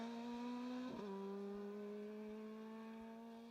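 Opel Adam R2 rally car, Rally 2 class, blasting down a long straight on a Mull Rally stage, its engine holding a steady high drone with a brief shift dip near the start, loud and close with no talk over it.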